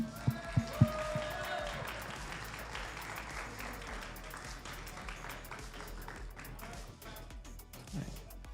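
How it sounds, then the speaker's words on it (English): Applause from an audience at a high school Super Smash Brothers state championship, honoring the third-place team: a steady wash of clapping after a few sharp thumps, continuing at moderate level throughout. "Give him one more round of applause."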